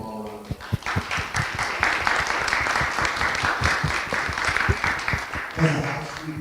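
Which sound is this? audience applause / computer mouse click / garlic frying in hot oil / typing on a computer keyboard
audience applause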